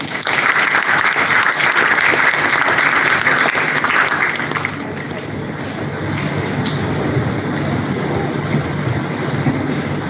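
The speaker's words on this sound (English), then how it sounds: "Give a big round of applause for them." Audience applause for two school students, Aditya of Class 10 and Rishti Ganguly of Class 9 from Manan Vidyalaya, at a school event: loud, dense clapping for about five seconds, then fading into a lower murmur of room noise.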